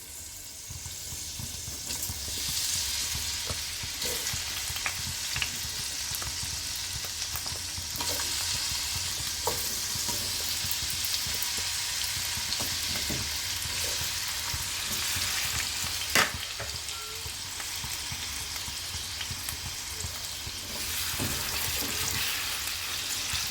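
Potatoes and carrots frying in a pan for a mixed-vegetable Navratan korma, a steady soft sizzle running throughout with occasional stirring clinks and scrapes, close and fairly quiet, no talking.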